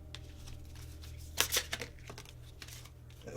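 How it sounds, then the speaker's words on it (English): Tarot cards are shuffled close by in a quiet room, with a brief burst of riffling and flicking strokes in the middle, then a few scattered soft taps against a low background hum. "After all that shuffling"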